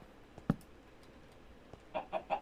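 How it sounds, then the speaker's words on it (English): Minecraft chickens cluck in short, scattered bursts, one sharp cluck early on and a quick run of three near the end, over a quiet background. "Oh my gosh, why are there so many chickens?"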